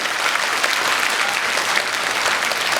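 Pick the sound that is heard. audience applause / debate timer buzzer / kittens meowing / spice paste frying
audience applause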